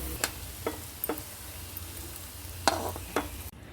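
Amaranth leaves and onion frying in a pan, a steady low sizzle with several sharp scraping strokes of stirring spaced through it, fairly close, ending in sudden quiet.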